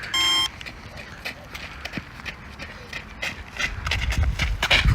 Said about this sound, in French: Oh, c'est le retour du bip bip.